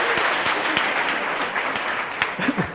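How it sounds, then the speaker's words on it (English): An audience breaks into applause after a song, a dense patter of many hands clapping at close range that fades slightly toward the end. "Doesn't usually end with applause, that bit."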